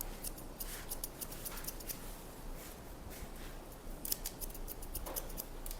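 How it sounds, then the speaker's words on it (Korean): Thinning scissors snip through thin, sparse hair during a men's haircut, giving quick, faint metallic clicks in irregular bursts close by, with no talking. "끝머리 명암을 좀 만들기 위해서 티닝 가위로 자르겠습니다"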